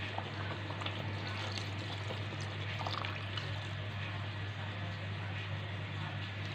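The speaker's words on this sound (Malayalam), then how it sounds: "ഇനി ഇതിലേക്ക് നമുക്ക് രണ്ടാം പാൽ ചേർത്ത് കൊടുക്കാം" Second coconut milk poured into simmering Kerala-style ada pradhaman, a steady liquid pour over a constant low hum of boiling, even and continuous throughout with no talking.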